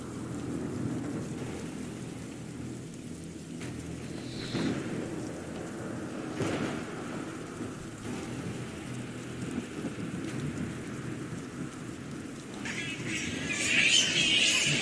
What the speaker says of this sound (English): Steve is just going to be patient and wait for the rain to breach the home.